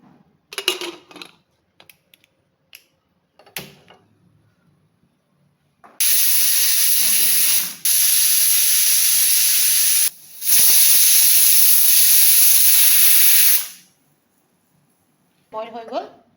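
A pot of salted water with bitter gourd and chana dal comes to the boil and lets off loud, steady steam hissing in three long bursts, with scattered clicks and brief speech around them.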